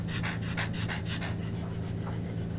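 A dog close by pants rapidly and steadily for a couple of seconds, loud, breathy and rhythmic, with a low indoor hum underneath and no voices.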